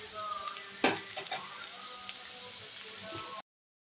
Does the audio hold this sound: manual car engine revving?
no